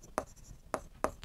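A teacher writing on a board during a Class 10 maths lesson, with three short, distinct strokes of chalk or marker in a quiet room, no speech over them.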